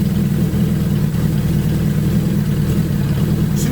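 A Suzuki GS1000 motorcycle engine idles close by during carburetor synchronization, a steady low throbbing rumble that holds even with a slight uneven stumble, with no talk.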